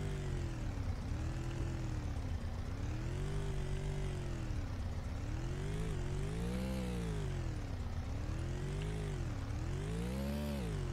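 Car engine in the Roblox game Jailbreak drones loud and continuous, rising and falling in pitch in repeated revving waves with no talk over it.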